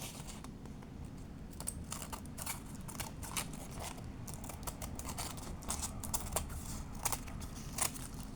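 Scissors snip and trim paper for a junk journal, a steady run of close, crisp cuts with faint crinkling of the sheet and no talking.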